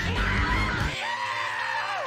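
Screaming from the fast-paced platformer Pizza Tower: a loud, harsh cartoonish screech for about a second, followed by a thinner sustained wail as the game's music continues beneath.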